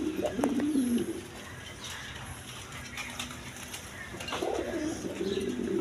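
Pigeons at a pigeon seller's stall coo in low, throaty bursts, with a few softer calls and light chirps between them at close range.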